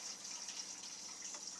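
Tap water running steadily through the ceramic filter elements of a Berkey water purifier, a soft continuous hiss and trickle, fairly faint and unbroken with no talk.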